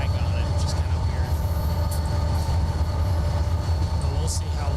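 A train running in the Train Simulator video game, a steady heavy rumble of wheels on rails with a faint high whine, loud and unbroken with occasional light clicks.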